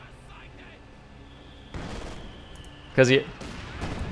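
Zis gun artillery barrage in Company of Heroes 2, a World War II strategy game, with muffled booms and rumbling impacts and one sharp loud hit partway through, under continuous commentary.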